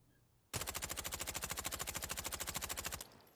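Full-auto rifle fire in the shooter game Insurgency: Sandstorm, a loud, fast, even burst of about twenty-five rapid shots lasting roughly two and a half seconds, alone with no talk.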